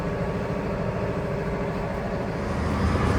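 A tractor engine drones steadily, heard from inside the heated cab during a cold-weather spreading job, a constant low rumble with no breaks.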